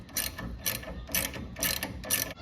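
A socket ratchet spins off the 15 mm top nut of a sway bar end link on a car, giving five bursts of quick, close clicking with short pauses between them.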